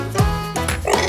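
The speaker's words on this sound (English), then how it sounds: "Dog!" A dog gives a couple of quick barks, close and clear, over a steady tonal background.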